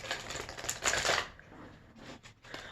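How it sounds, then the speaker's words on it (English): Tarot cards pulled from a deck give a quick run of crisp, rapid papery snaps and flicks that fade after about a second, then a few fainter shuffles, close and alone without speech. "As I'm pulling these cards from the deck,"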